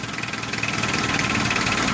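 A Mitsubishi 4D56 diesel engine idles steadily with a rough, pulsing knock close by as its fuel pump enrichment screw is turned down, and no voices are heard.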